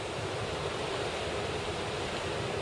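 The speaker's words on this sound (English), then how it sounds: "There you can see that wave there." Ocean waves break as white water on Coney Beach, Porthcawl, a steady broad roar of surf with some wind, loud and continuous without speech.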